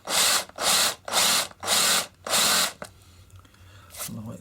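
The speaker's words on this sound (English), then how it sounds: "So if I drill in there" A power drill bores a starter hole into wood in five steady bursts with short pauses, loud and close, then stops, leaving faint handling noise.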